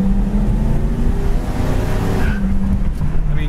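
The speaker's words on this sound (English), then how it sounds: "second gear scratch like that, transmission shifts very well" A 1968 Ford Mustang with a four-barrel carburetor and manual transmission roars steadily as it accelerates and shifts gears, its engine loud and close throughout with a slight rise in pitch, no voices over it.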